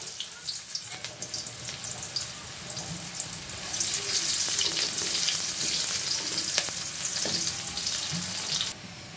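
Chopped onions fry in hot oil in a pan for a home-cooked curry of small fish and potatoes, with a steady close sizzle and crackle that grows louder partway through, with no talking.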